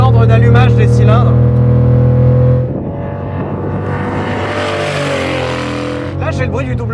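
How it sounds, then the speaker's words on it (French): A W8 car engine runs steadily with a loud low hum, then, with cylinders shut off, its tone shifts to a rougher, uneven burble with a slight rise in pitch. "Là, j'ai le bruit du W8."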